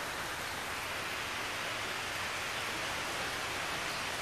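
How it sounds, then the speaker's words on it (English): Steady, dense rain pours down in Bali, an even wash of hiss with no breaks or distinct drops, moderately loud and unaccompanied by voices. "So here's some more shots of the rain."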